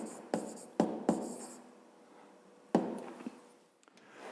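A pen writes a short answer by hand for a fifth-grade math exercise, heard as a few sharp taps and brief scratchy strokes, close and quiet, separated by pauses.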